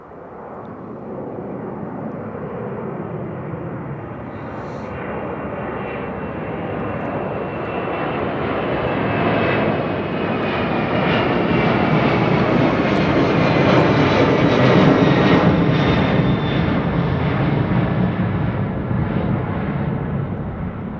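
A Boeing 767 fitted with old Pratt & Whitney engines climbs out overhead from London Heathrow, its broad jet roar swelling steadily to a loud peak and holding for about twenty seconds, with no voices.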